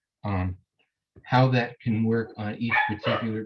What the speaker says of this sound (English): that's my dog reacting to another dog